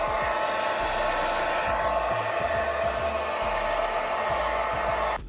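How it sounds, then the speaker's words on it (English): A hair dryer blow-drying curly hair gives a loud, steady close-up whoosh and hum throughout, with small fluctuations as it moves, then cuts off just before the end. "I might as well blow dry it"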